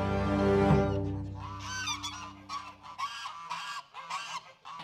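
Geese honk in an eighteenth-century fortress barnyard at Louisbourg, a run of loud, close nasal calls in uneven bursts, fairly near and alone, with a low rumble fading early.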